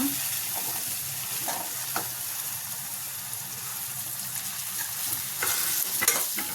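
Bottle gourd pieces stirred with turmeric and curry leaves in an oiled pan: a continuous soft sizzle under repeated spoon scrapes and clatters, with a louder burst of stirring near the end.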